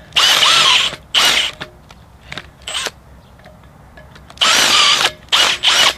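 A power drill bores holes for a U-bolt during an installation job, running in loud bursts: two long whirs, a few short blips and stutters, then three more bursts near the end, with quiet gaps between.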